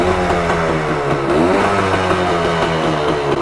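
A Suzuki ER 185cc two-stroke motorcycle engine runs loud and close, a steady buzzing idle that rises into a brief rev and then settles, with no voices.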